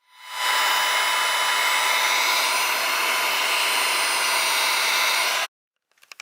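Heat gun blowing hot air over heat-shrink tubing on spliced red and green wires during a backup camera install on a Honda S2000: a loud, steady, broadband airflow roar that holds for about five seconds, then cuts off abruptly, leaving faint clicks.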